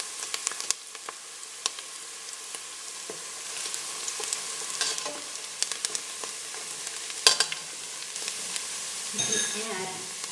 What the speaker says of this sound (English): You want to cook until the onion is transparent,